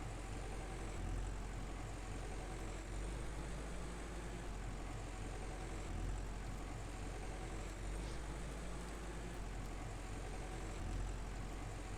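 Tractor engine in the farming game Farmer's Dynasty, running as a steady, continuous low drone with a rough rumbling texture that holds even throughout, with no talking over it.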